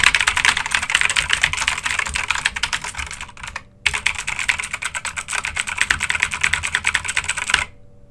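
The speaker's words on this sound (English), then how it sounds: "This is aggressive typing on the Apex 7." Fast, forceful typing on a SteelSeries Apex 7 mechanical keyboard with blue switches, loud, dense clacks, pausing briefly once before resuming, then stopping near the end.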